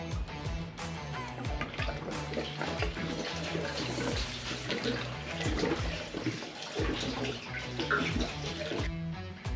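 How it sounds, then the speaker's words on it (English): Fresh petrol pours into the fuel tank of a BMW R80ST motorcycle, a continuous close splashing and gurgling liquid stream with small bubbling surges, steady in loudness for the whole stretch. "I've installed the fuel tank as well, and I'm pouring some fresh petrol in it."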